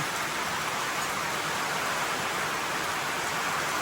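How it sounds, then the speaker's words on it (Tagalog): Heavy rain pours down in a dense, constant hiss, loud and unbroken from start to finish. "Ang lakas ng ulan."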